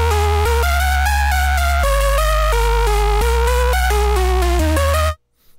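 Without a volume envelope, a synth polybass through SerumFX sounds as a continuous sustained buzzy chord drone, deep bass notes shifting every second or so beneath brighter moving tones, steady and loud before cutting off near the end.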